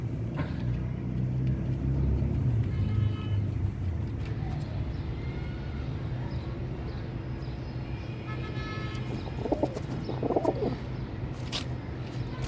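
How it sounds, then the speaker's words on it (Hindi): Pigeons coo softly a few times amid outdoor ambience, with distant traffic rumbling underneath. "ओरिजिनल कबूतर है"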